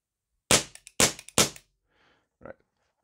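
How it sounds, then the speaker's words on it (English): A Tanfoglio race gun fires three loud, evenly spaced shots nearby, each with a short ringing decay, followed by a faint rustle and a sharp mechanical click. "Put it onto fire again, checking there's nothing in the within it, and I fire three shots."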